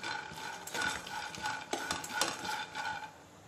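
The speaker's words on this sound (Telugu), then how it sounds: "ప్యాన్ పెట్టుకొని ఇందులో ఒక కప్పు పల్లీలని వేయించుకోవాలి మీడియం ఫ్లేమ్ పైన" A cup of peanuts dry-roasts in a pan over a medium gas flame. Faint scraping and stirring clatters as the nuts are moved around, with soft rattling bursts and a low background hum.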